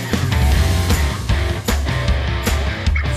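A rock track with pounding drums, driving bass and distorted guitars, loud and dense throughout.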